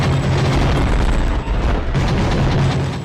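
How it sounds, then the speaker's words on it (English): Loud, continuous, heavily compressed explosion noise from the video game Gungrave, booming blasts blurring into a dense wall of sound with no pauses. "I love the extremely compressed explosions."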